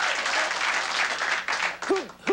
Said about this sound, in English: Who doesn't applaud to that when you think of it?